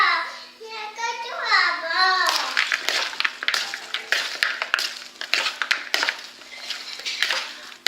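A salad being tossed and mixed in a bowl: a voice is heard briefly at first, then a run of quick, close clattering and scraping strokes in an uneven rhythm.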